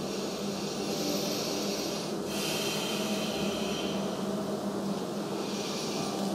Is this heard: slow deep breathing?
yes